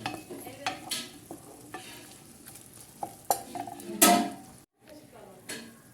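Chicken sautéed in butter in a pan, utensil scrapes and clinks of stirring over a soft sizzle, with a few sharper metallic knocks and one loud scrape midway.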